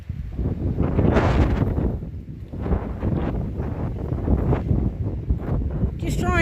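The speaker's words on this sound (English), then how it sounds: "trying to give an idea of how windy it is out here" Strong wind gusts on an uphill mountain hiking trail at Waterrock Knob in bad weather, buffeting the microphone in loud, rough surges that rise and fall for several seconds.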